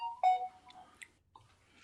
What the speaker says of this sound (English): No, that's my phone.